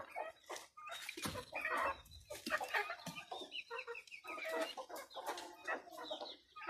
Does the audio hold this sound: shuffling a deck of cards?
no